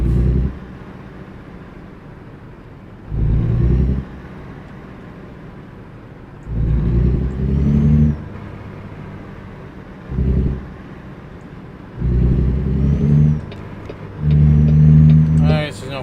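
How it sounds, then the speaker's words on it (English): A Peterbilt truck's diesel engine in American Truck Simulator revs in repeated bursts of deep low rumble between quieter idling stretches, with someone talking intermittently. "As you can tell, this thing's got a hell of an engine."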